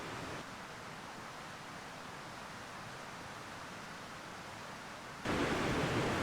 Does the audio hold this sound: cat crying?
no